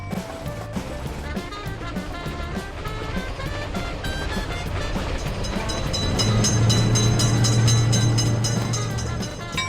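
Train rolling through a level crossing where a lifting gate closes the road to cars: steady clattering wheels and rumble grow louder, with a long horn sounding near the end.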